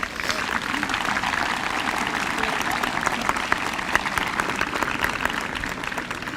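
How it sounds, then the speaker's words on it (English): A graduation crowd claps steadily in dense, sustained applause, with the clapping holding an even level throughout. "So give yourselves a big round of applause."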